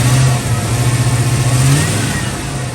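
A supercharged Ford Bronco engine revs with a rising, high-pitched supercharger whine over the rumble, loud and close, with no voices.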